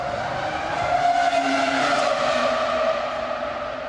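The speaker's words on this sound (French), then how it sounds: "quand une Formule 1 passe devant vous" A Formula 1 car roars past at close range, a loud, sustained high-pitched engine whine that swells and fades slightly over a few seconds.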